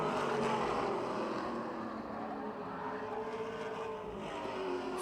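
NASCAR Super Late Model race cars roar steadily through a 10-lap heat race at Motordrome Speedway, a dense, continuous engine drone with shifting pitch as the pack circles, moderately distant and unbroken for the whole stretch.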